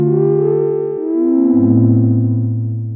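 A cheap €50 home keyboard synth, a Yamaha Portasound or Casio type, plays sustained organ-like chords that shift pitch a couple of times, bright and close with no voices.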